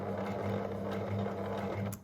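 A sewing machine back stitches fine fabric with the needle set to stop down, giving a steady close mechanical hum and whir for a couple of seconds.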